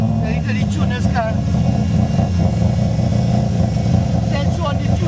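A first-generation Mazda RX-7 fitted with a 20B rotary engine, in need of retuning, drones loudly and steadily close by with a low, rough tone, while excited voices talk over it.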